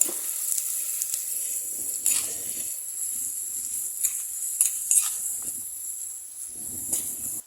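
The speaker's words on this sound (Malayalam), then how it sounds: "ഒരു 3 പച്ചമുളക് അരിഞ്ഞത്, കുറച്ച് കറിവേപ്പില, ലേശം ഉപ്പിട്ട് കൊടുക്കാം. ഒന്ന് വഴറ്റിയെടുക്കാം." Chopped green chillies, curry leaves and salt sautéing in a pan, a steady soft sizzle and hiss running throughout, with occasional light clicks and scrapes of stirring.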